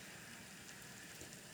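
Steady winter rain falling continuously, heard as a faint, even hiss without distinct drops or voices.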